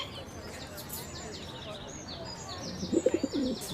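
Pigeons coo and chirp in a cartoon scene, soft calls running throughout with a louder burst of cooing near the end.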